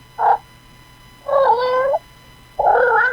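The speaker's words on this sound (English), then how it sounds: "He meows." A cat meows three times, close and clear: one short call, then two longer drawn-out meows with a pause between each.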